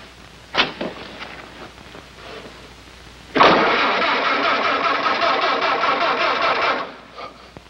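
A brief knock and rattle, then an engine catches and runs steadily at a loud, even idle for several seconds before cutting off.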